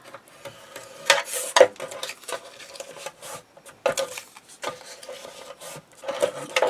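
Paper being burnished for a handmade mini album, irregular close rubbing and scraping strokes in short bursts, fairly quiet, with no talking.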